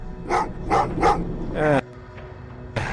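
Dogs in the video game Terminator Resistance bark in three loud, close barks followed by a longer whining yelp, with a voice speaking briefly at the end.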